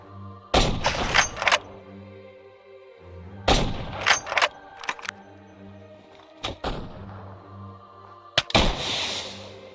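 Rifle gunfire in a Minecraft war battle: three loud bursts of rapid shots near 0.5, 3.5 and 8.5 seconds, each followed by booming echoes, with scattered single shots and impacts between them.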